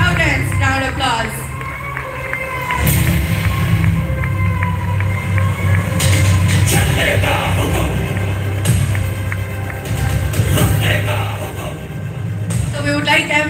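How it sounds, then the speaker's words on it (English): An audience breaks into applause with cheers and whoops at a Bollywood celebrity event for Laxmi Narayan Group and Time Group. The loud, dense crowd noise swells after a few seconds and stays steady with background talk. "Loudest round of applause."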